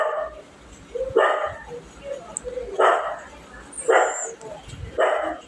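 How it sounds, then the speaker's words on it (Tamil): Dog barking in single loud bursts, about four barks spaced a second or more apart, close by, over a quiet background with low talk. "நாய் வேற கத்துது."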